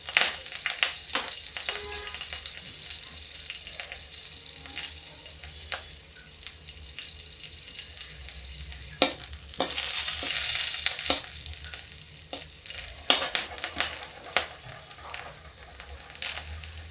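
Two slit green chillies fry in a kadhai with a soft, steady sizzle, broken by occasional scraping stirs and clinks of the spoon, fairly quiet and close with no voices.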